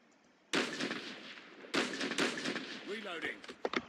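Two loud, close gunshots in Call of Duty Mobile, the second followed by rumbling echoes and clattering game effects, with a voice talking over the end.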